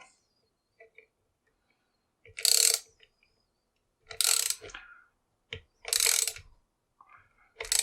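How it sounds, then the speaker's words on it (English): A 3/8 ratchet cranks hard on a tamper-evident single-use padlock, with three loud bursts of rapid clicking separated by pauses, close up and with no talk. "All right, so we're just going to crank on it."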